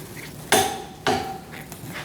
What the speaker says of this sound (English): Now we're going to torque our bolts to 111 foot-pounds.